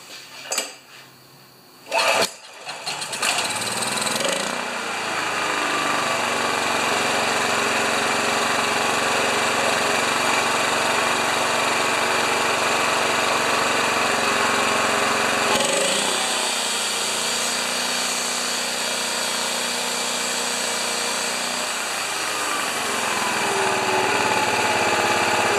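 A Honda EB2200X portable generator starts after a few sputtering pulls, then its small engine settles into a steady, loud drone that runs on without a break; one short dip in the middle recovers right away.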